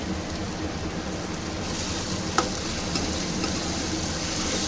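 Fish curry masala (lote fish) frying in oil in a pan gives a steady, close crackling sizzle that runs the whole time, with a few light stirring clicks and no voices.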